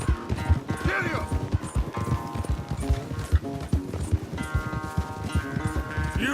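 A horse gallops hard during a race in Red Dead Redemption 2, its rapid hoofbeats pounding close and loud beneath music and a voice calling out.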